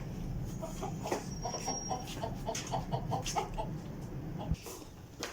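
Chickens cluck in a rapid, repeated run of short calls close by, fairly soft, with a brief thump near the end and no voices.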